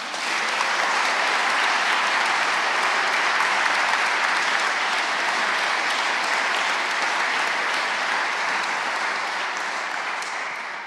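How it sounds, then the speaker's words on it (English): Gala dinner audience applauding at an award ceremony, a long, steady, full-room roar of clapping that holds evenly for about ten seconds before tapering slightly at the end, with no speech over it. "Big applause."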